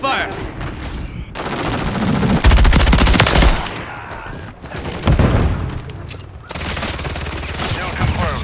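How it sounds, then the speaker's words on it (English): Rapid automatic gunfire from Call of Duty MW3 multiplayer rattles in sustained bursts with short gaps, loud and close, mixed with booming impacts and mechanical clicks. "Taking effective fire."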